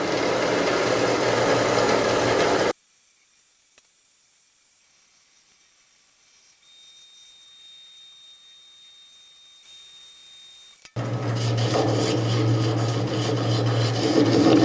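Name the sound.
applying Hampshire Sheen finish to birdseye maple bowl on lathe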